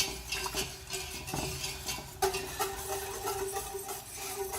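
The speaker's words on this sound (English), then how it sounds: "Start stirring all vigorously and bump the leg of the tripod" Crab macaroni and cheese stirred vigorously in a pot, with continuous scraping and clinking of a utensil against metal, plus a sharper knock partway through, fairly quiet and close.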